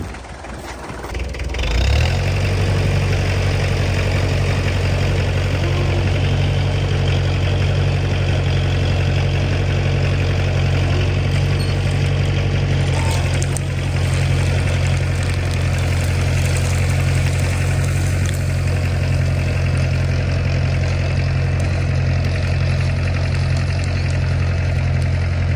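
A faulty tractor engine starts up and then idles loudly and steadily with a deep, constant rumble, close by, for a long stretch, while set up for log dragging.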